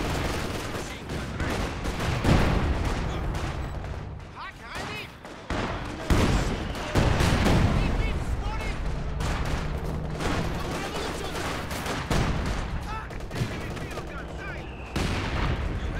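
ZiS anti-tank guns fire repeatedly in a Company of Heroes 2 battle, loud booms and gunfire bursts packed densely over constant combat noise, with a commentator talking throughout.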